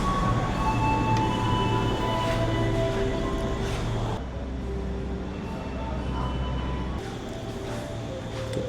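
A train sits at a station platform with a loud steady rumble and engine hum, plus tonal whines that shift partway through; no one speaks.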